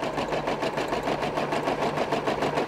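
A sewing machine stitching with white bobbin thread, running steadily with an even, quick mechanical whir and rhythmic needle pulses throughout.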